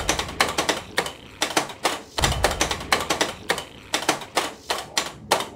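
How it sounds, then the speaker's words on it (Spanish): Loud clattering keystrokes on an oversized giant keyboard during a StarCraft match, a steady run of sharp taps and thuds with a few heavier bangs, close and without talk. "Un pro de StarCraft decidió jugar con un teclado gigante y ya nos imaginamos lo tardado que sería."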